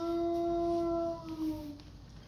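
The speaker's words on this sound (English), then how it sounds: "So that's a wolf howling on TV right now." A long, steady wolf howl from a television holds one pitch, then dips and fades into a softer, wavering trail, heard clearly through a speaker.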